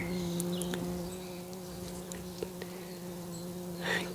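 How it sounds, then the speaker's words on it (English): Solitary bees in a summer garden with roses and flowers give a steady, faint drone of buzzing, with a small insect passing briefly close near the end. "There weren't many bees about yesterday when I came in the garden, but I've heard a few today."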